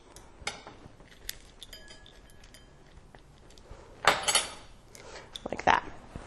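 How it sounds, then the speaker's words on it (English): Spoon clinks and scrapes against a bowl while scooping delicata squash seeds, a few soft knocks early on, then two louder bursts of scraping and clatter near the end, close up with no talking. "just taking a spoon and scooping them into a bowl as best you can"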